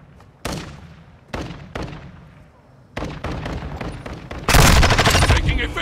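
Gunfire in a Call of Duty team deathmatch: several loud, sharp shots spaced apart, then a sustained burst of rapid automatic fire, close and dominant over the game's ambience.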